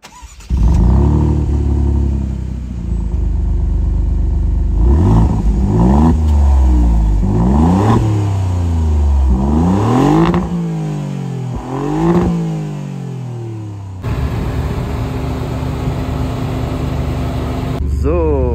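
A current Alfa Romeo Giulia fitted with an Akrapovic exhaust revs hard several times, loud rising and falling engine sweeps with sharp exhaust bark, close by, ending in a steady drone.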